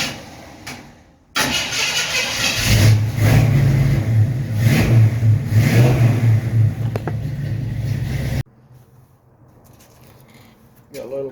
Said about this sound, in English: I should be able to at least get it fired up